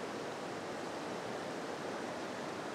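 A fast river run pouring over and around rocks, a steady broadband rush of moving water that stays even and fairly quiet from start to finish.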